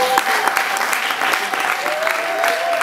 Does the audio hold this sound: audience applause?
yes